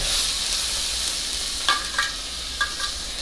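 Roughly chopped garlic clove sizzling in a hot pan, a steady bright hiss of frying with a few soft stirring clicks and scrapes, no voices.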